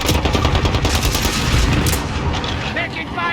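Rapid gunfire in a Modern Warfare multiplayer match with an Uzi, dense bursts of automatic shots and heavy booms, loud and close, tapering off near the end, with voices over it.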